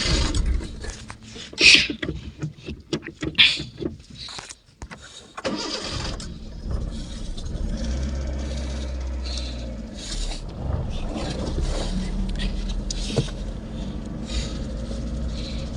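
Motorbike ridden home along a rural road, the engine catching after a few knocks and clatters, then settling into a steady mid-pitched drone that stays close and continuous.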